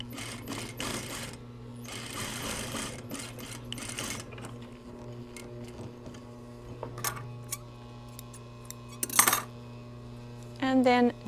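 A sewing machine stitches the center back seams of yoke pants, running in steady bursts of whirring, then pausing, with small clicks, handling noises and brief clatters between runs.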